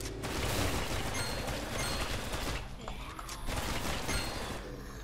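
Machine gun fire in the rail shooter Dead Containment, a dense sustained rattle of rapid shots with booming impacts, loud and continuous throughout, with brief gaps near the middle.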